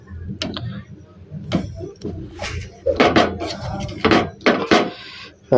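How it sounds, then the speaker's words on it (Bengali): A spoon clinks and scrapes against a cooking pot of Maggi noodles in a busy kitchen, with irregular metallic knocks and stirring sounds spread across several seconds and low voices in the background. "চামচ নিয়ে পরে এটাকে হালকা করে একটু নেড়ে নেবো।"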